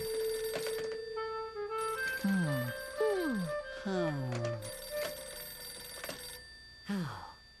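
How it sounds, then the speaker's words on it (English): A telephone rings in repeated bursts of bright electronic trills over several seconds, with a voice speaking between and around the rings. "Please excuse me while I answer my phone."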